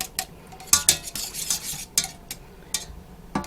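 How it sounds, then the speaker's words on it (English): A thick lemon juice and pectin mixture stirred in a pan, a series of sharp scraping strokes and clinks of a utensil against the metal over a faint simmer, close and uneven in rhythm with no talking. "Try not to stir it too much because that noise will grate on anyone's nerves."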